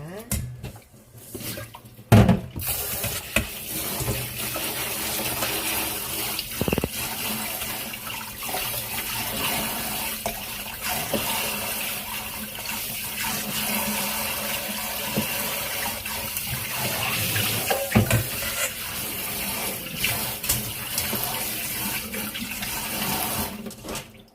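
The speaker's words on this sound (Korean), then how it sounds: "손으로 해서 굴도 역시 많이 씻지 않고 3번 정도 가볍게 흔들어서 씻어줍니다" Raw oysters washed by hand in water, shaken lightly about three times: continuous splashing and sloshing fills the whole stretch, with occasional knocks.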